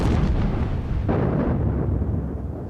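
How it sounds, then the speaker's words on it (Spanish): An artillery shell explosion from the First World War rumbles as a loud, heavy, sustained roar, close and alone, fading slightly at the end. "Oías una explosión"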